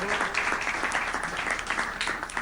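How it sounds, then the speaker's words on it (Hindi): An audience at a Hindi comic poetry gathering breaks into a full round of applause, a thick and even roar of many hands clapping that carries on steadily from start to finish. "उनके लिए आप तालियां बजा दीजिए।"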